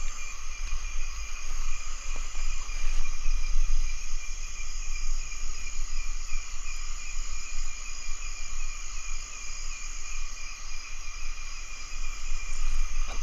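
Frogs and crickets fill a nighttime cemetery in Vietnam with a dense, steady chorus of high insect trills and croaking, continuous and unbroken, with no voices.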